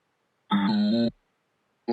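Dry vocal pitched down 12 semitones, a deep, thick voice in one short phrase of about half a second, then silence before another phrase begins, heard alone.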